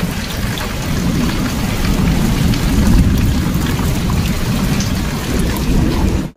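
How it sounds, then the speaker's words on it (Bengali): Heavy rain pours steadily at night during a storm with lightning, a deep rolling rumble of thunder underneath, loud and continuous throughout. "বাইরে প্রচুর ঝড় বৃষ্টি, সঙ্গে মেঘ ডাকছে প্রচুর"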